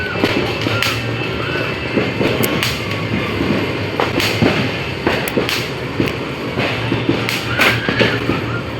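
New Year firecrackers go off in a rainy outdoor setting, sharp cracks and pops bursting at irregular intervals over a steady dense crackle and background din, moderately loud throughout.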